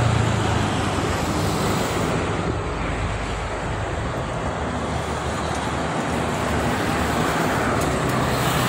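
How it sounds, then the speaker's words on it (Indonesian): Road traffic with freight trucks passing, a loud continuous roar of engines and tyres close by, broad and steady, with wind noise and no talk. "truk angkutan barang ke barat"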